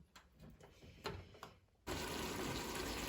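Water pours into a pot of vegetarian couscous with vegetables, starting as a steady, loud rush after a few quieter clinks and splashes.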